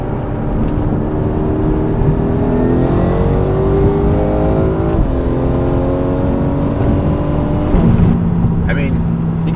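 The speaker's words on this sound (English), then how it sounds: "I am interested in knowing what it sounds like with the exhaust valves open though" A BMW M5 engine holds a loud, steady drone with its exhaust valves open, pitch rising and dipping slightly as it revs, with voices talking over it.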